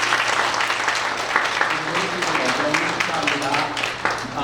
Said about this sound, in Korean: 우리 일단 박수부터 한번 하고 할까요?